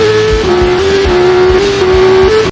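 Cars race loudly through a track chase in the film Charlie's Angels, their engines whining in a sustained, wavering roar with rhythmic pulses underneath and no voices.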